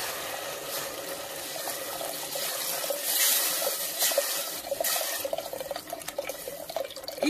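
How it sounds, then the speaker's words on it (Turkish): Hot water pours over fried lentils, onions and garlic in a cooking pot, a continuous splashing gush that swells midway and then trails into bubbling and dripping, with no voices. "Yeterince kavrulmuş olan mercimek, soğanlar ve sarımsağın üstüne şimdi sıcak suyum var."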